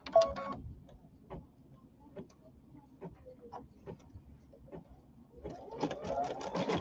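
An embroidery machine stitches decorative edging around an in-the-hoop ironing pad, giving faint, sparse ticking and tapping that builds into a steadier, louder mechanical whir near the end.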